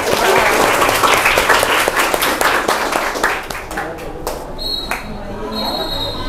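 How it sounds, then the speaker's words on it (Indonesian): Loud applause from an audience at a junior high school in Central Jakarta, strong and dense at first, then thinning into scattered claps with faint voices as it dies away. "Tepuk tangan dulu untuk"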